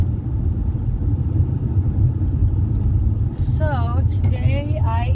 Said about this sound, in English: So today I am driving to a woman's house, Kelly.